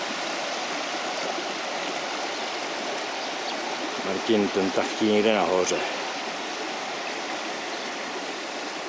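A mountain stream in a valley in Cyprus keeps up a steady broadband rush of flowing water from start to finish, and a voice speaks briefly over it partway through.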